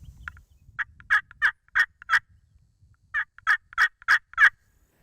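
Hen turkey yelping in Florida, two runs of rhythmic, evenly spaced raspy yelps, about four notes then five, loud and close against a quiet background.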